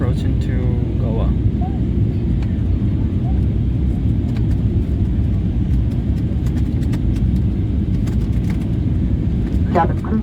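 Airliner cabin of an Airbus A320neo on final approach into Goa airport in the evening, filled with a loud, steady low engine and airflow rumble, with faint chimes and brief voices in the background.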